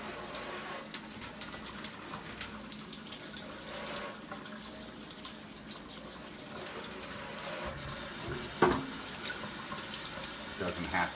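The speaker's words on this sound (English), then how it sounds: "So I'm just going to hose it off." Water from a hose spraying steadily over plant roots to wash off dirt, a continuous close hiss and splatter with a brief knock near the end.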